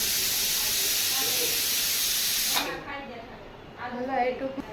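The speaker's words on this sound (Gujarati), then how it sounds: "જો અત્યારે સીટી થાય છે કુકરમાં" A pressure cooker cooking masoor rice lets out a loud, continuous hiss of escaping steam that stops suddenly, followed by a voice speaking nearby.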